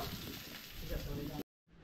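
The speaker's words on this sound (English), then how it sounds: "And we're just frying up a bit now of each one." Pork sausage flavoured with dill sizzles in a frying pan, a steady dense hiss and crackle that runs loud for over a second before cutting off abruptly, then resuming more faintly.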